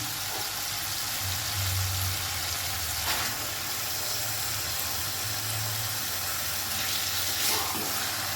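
Whole lote fish dropped into hot spiced oil over a high gas flame, frying with a steady, close hiss and sizzle that swells and eases in places, with no talking.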